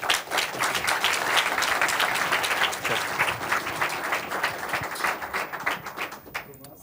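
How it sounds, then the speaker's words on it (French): Sustained applause from a seated audience at an evening church innovation event, dense steady clapping that fades toward the end, with some voices mixed in. "je vous demande de lui faire un tonnerre d'applaudissements"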